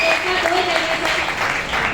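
An indoor audience at a business meeting gives a short burst of scattered clapping, with a speaking voice running over it the whole time.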